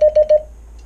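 Morse code letter H keyed as a series of short, evenly spaced high-pitched beeps, clear and close, followed by quiet.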